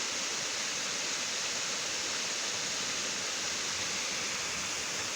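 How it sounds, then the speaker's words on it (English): A waterfall on the Issaqueena trail near Clemson roars as a steady, dense wash of falling water, unbroken and heard from some distance, with no voices over it. "that is quite some waterfall"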